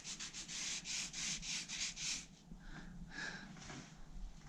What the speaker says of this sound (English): Let's get one of these pads again and just lightly just sand that back.